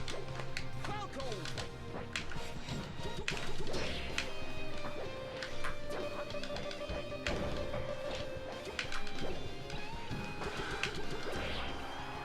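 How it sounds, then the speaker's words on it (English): Marth smashes targets in Super Smash Bros. Melee, a string of sharp crashes and whacks with sword swishes over game music, with repeated impacts throughout. "I have to break the targets with Marth"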